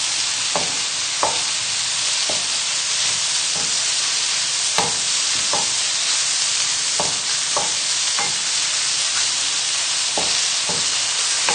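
Mushrooms sizzle steadily in a pan on full heat for a creamy risotto, with a spoon scraping and stirring at a loose, irregular rhythm over the constant close hiss.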